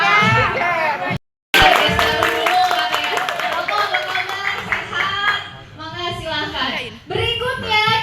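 Crowd at a Persib supporters' (Bobotoh) discussion event breaking into applause and cheering, with clapping, shouts and children's voices under a loud, continuous hubbub and a brief silent gap near the start.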